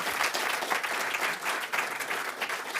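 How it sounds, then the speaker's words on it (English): Audience applause at a tech conference after a talk on Python and Rust: brief, steady, dense clapping from a crowd, heard alone. "A round of applause."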